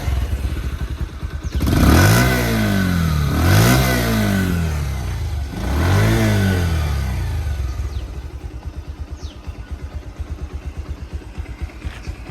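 A Bajaj Pulsar 125 motorcycle engine, BS4 model, starts up and is blipped in three loud revs, each rising and falling, then settles into a steady, thumping idle close by.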